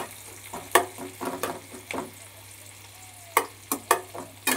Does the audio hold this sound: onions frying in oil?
yes